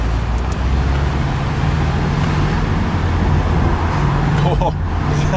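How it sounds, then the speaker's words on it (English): Porsche 718 Boxster with sport exhaust engaged, a steady low engine drone under dense road and traffic noise, continuous throughout with a brief rise near the end. "I'm gonna turn on sport exhaust."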